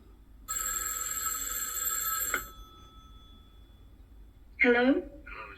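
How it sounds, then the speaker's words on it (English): A telephone in the horror film Black Christmas rings in a clear electronic trill lasting about two seconds, then a second short ring follows after a pause, with quiet room tone between. "and then we get another phone call."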